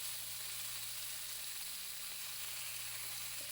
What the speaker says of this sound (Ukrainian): і на великому вогні обсмажую. Е, обсмажую з усіх боків